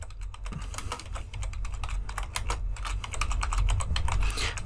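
Rapid typing on a computer keyboard, a dense run of close, crisp key clicks that continues without pause and grows slightly louder toward the end.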